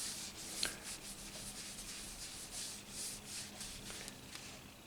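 A guitar fretboard is rubbed with a coarse polishing compound in quiet, rhythmic back-and-forth strokes, a soft scratchy swish repeating steadily at low volume.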